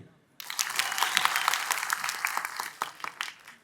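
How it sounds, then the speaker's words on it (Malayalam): An audience at a Mohiniyattam success celebration breaks into applause, a dense burst of clapping starting abruptly and holding fairly loud for about three seconds before thinning slightly. "ഒരു കയ്യടി."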